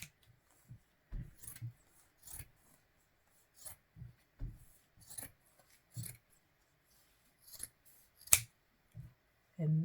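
Scissors snip through quilted fabric for a vest in a series of short, separate crisp cuts with pauses between them, close and fairly quiet in an otherwise silent room.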